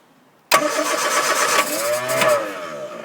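A Hillman Avenger, sitting unused for 24 years, catches and starts after being helped with carburetor cleaner: a sudden loud burst of engine noise that settles into a rough, uneven run close by, with no talk over it.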